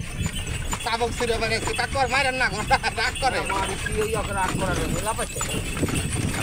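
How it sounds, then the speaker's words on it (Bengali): Horse hooves clip-clop steadily on a hard road as a horse carriage moves at Natore Rajbari, while several people talk and call out loudly over the rhythmic clatter. "পাগলা ঘোড়া ছুটেছে।"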